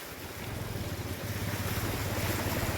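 Floodwater rushing beneath a railway bridge underpass, a steady broadband roar of flowing water with wind-like noise, continuous and fairly loud throughout.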